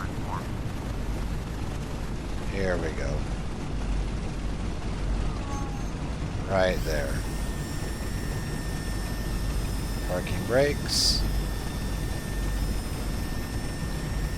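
Piston engines of a B-17 bomber in a flight simulator rumble steadily through the whole stretch, a low broadband drone with a brief swell midway, while someone talks intermittently over it.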